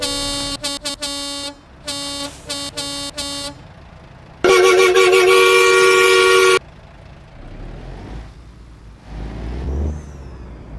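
Kenworth T800 truck horn honking in bursts of short toots, followed by one long loud blast, then quieter engine and air brake sounds as the rig moves off.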